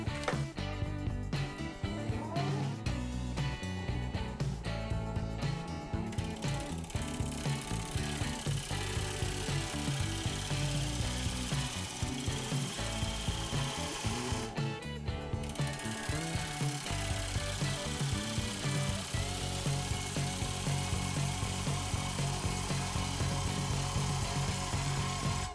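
A wood lathe spins a spruce burl bowl blank while a gouge cuts it, giving a steady loud motor whir with rough, rhythmic scraping and chattering throughout, briefly easing in the middle.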